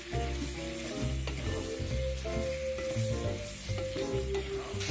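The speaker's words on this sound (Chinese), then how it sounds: "那我们继续翻炒，水分好再一点一点收干" Braised wheat gluten kaofu is stir-fried in a wok over high heat as its liquid reduces, a loud continuous sizzle with rhythmic scraping and tossing, plus a low background hum.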